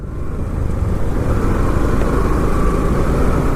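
A motorcycle engine labours in third gear at about 40, a loud, steady drone that holds throughout with no break, close to the rider.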